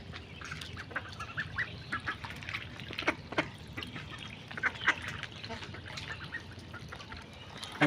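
Chinese ducks feed on snails, giving soft quacks and honks scattered over a low background, fairly quiet and close.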